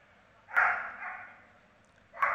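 A German shepherd police dog on a luggage search gives a loud bark, followed about a second and a half later by the start of a second bark, heard close with no talk.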